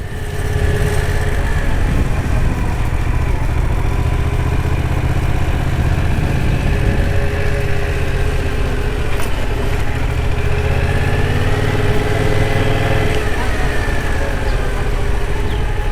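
A motorcycle engine idles steadily nearby, its low, even rumble holding throughout with no speech over it.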